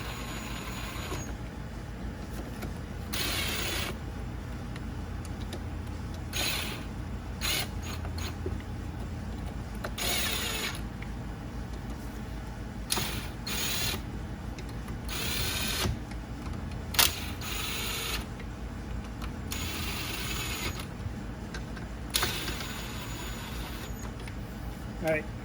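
Ratchet turning bolts in lightly on a Suzuki RM250 two-stroke engine rebuild, short bursts of clicking pawl strokes separated by pauses, close up over a steady low shop hum.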